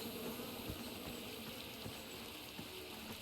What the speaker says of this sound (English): you're supposed to trigger the bees